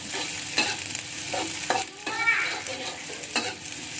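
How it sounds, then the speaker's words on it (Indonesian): Shallots and garlic frying in a pan are stirred, with a soft continuous sizzle under scraping spatula strokes and occasional clinks against the pan. "setelah bawang merahnya harum, kita masukkan bawang putih ya. Nah, kita aduk."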